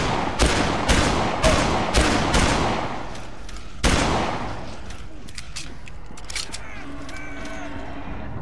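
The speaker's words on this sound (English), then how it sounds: "This is supposed to be a fast pistol." Rapid pistol shots in the zombie game Dead Island, a quick burst of sharp, loud reports, then a second volley with trailing echo and game ambience.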